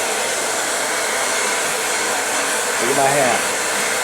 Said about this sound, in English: Only keep the blow dryer coming in one direction, the direction that you want the cuticle to close in